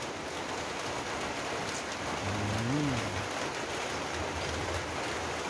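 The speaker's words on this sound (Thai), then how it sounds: "กับบรรยากาศฝนตกนะครับนี่" Rain falling outdoors around a home cooking area, a soft continuous hiss of drops without pause, with a brief low tonal hum in the middle.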